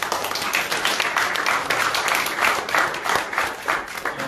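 A church congregation claps and applauds together in a dense, steady burst of overlapping hand claps, loud and sustained throughout.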